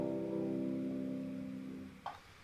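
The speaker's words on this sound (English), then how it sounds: "Chords can be major, which sounds like this" A single sustained major chord rings out, fading slowly over about two seconds, with a brief click near the end, and no one talking.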